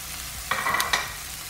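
Green vegetables are tipped into a pan of onions frying for a rib eye steak dish, making a quick clatter and burst of sizzle that lasts under a second over a quiet background.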